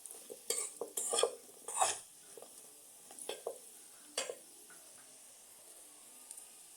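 Potatoes frying in a pan, stirred with a utensil: a quiet background sizzle broken by several sharp scraping and clinking strokes of metal against the pan, then a few lighter taps as the stirring slows.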